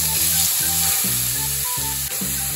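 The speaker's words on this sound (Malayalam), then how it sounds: "അതേ നെയ്യിലേക്ക് നമുക്ക് ഗ്രേറ്റ് ചെയ്ത് വെച്ചിരിക്കുന്ന ക്യാരറ്റ് ഇട്ട് കൊടുക്കാം" Grated carrot sizzles steadily in hot ghee in a pan for a carrot laddu, a continuous close frying hiss with faint stirring and no voices.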